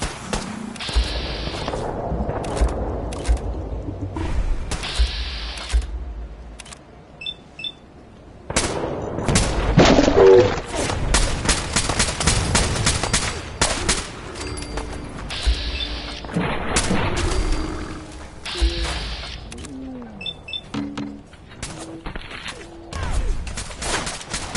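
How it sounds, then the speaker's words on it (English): Gunfire in a Fallout 4 battle against gulpers, with repeated bursts of automatic and single shots, loud and close, mixed with clanks and explosive thumps throughout. "Defend yourselves! Ready all! Fire at will!"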